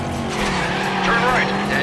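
Car drifting through a right-hand turn in the Stuntman Ignition stunt-driving video game, with a steady engine drone and a sustained squeal of sliding tires over about two seconds.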